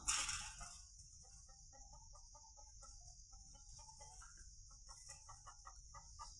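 A hen clucks repeatedly in short, soft bursts, fairly close, on a farm, over a constant high-pitched insect whine and low background hum.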